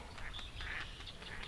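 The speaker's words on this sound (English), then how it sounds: "As the dog's chasing the duck." A duck quacks repeatedly while being chased by a dog near clear water, giving short, faint calls in quick succession over a steady outdoor background hiss.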